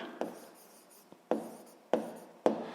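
Pen writing on paper during a sixth-grade math lesson, with soft scratchy strokes and four sharper taps as marks are made, close and quiet, with no talking.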